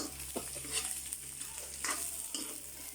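Vegetables, including eggplant and okra, are stir-fried in a non-stick pan, giving a quiet steady sizzle broken by a few soft scraping stirs.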